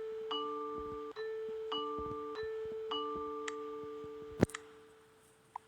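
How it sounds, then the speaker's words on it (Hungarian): A doorbell rings three times in a row, each press giving a short, steady electronic ding-dong chime of moderate loudness, followed by a sharp knock-like thud near the end. "Háromszor csengettem."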